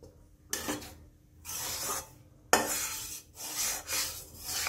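Besan gram flour being roasted over low heat in a heavy-bottomed kadhai, with bursts of scraping and rubbing from a spatula against the pan, close and fairly quiet, no talk.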